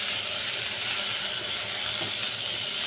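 Pointed gourd and potato fry in a pan seasoned with panch phoron, salt, turmeric and green chilli, giving a steady, close sizzle and hiss that holds evenly throughout with no voices.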